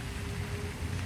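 Steady rain patters on a surface, a dense, even hiss of drops with no voices, close and continuous throughout.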